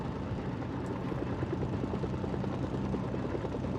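A steady helicopter rotor drone in the video game Mercenaries 2: World in Flames, a dense, continuous low throb, loud and unbroken throughout, no voices.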